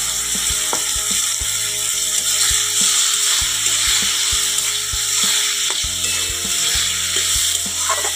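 Potatoes with spices fry in a pan with a loud, steady hiss, along with rhythmic clacking of a spatula against the pan over a tonal background hum.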